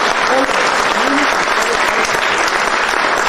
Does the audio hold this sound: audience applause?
yes